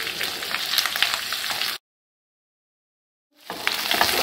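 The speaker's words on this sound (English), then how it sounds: "Also adding some salt while frying the potatoes." Baby potatoes fry in butter in a pan with salt added, giving a close, steady sizzle and crackle that stops for a moment of silence and then starts again.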